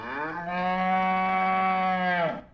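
A single cow gives one long, loud, clear moo lasting about two seconds, close by and alone.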